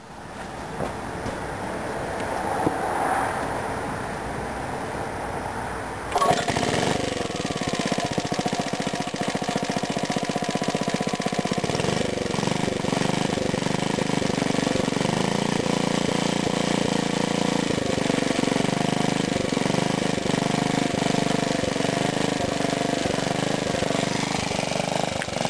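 A 1950 Briggs NPR6 engine drives a BSM gear pump, a steady close mechanical drone that jumps louder after a few seconds and then runs evenly with a faint rhythmic chug.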